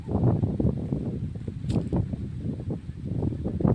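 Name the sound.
wind blowing through trees outdoors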